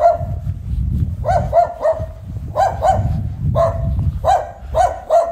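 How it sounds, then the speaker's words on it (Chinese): A small guard dog at a village temple barks repeatedly in short bursts of two or three, close and fairly loud, with steady background noise and no talking. "这有一个小狗看家护院"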